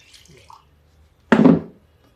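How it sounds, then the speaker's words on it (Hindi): Short splash of water poured into thick mung dal batter for chilla, a single brief wet gush after a few faint drips, close and fairly loud. "थोड़ा सा पानी और डाल देते हैं, पानी डाल के 1 राउंड और घुमा लेते हैं।"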